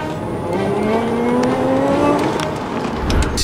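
A Tesla Model 3 Performance accelerating hard in Track Mode, a steady, loud electric whine rising smoothly in pitch under road and tyre roar, heard close from inside the car without talk.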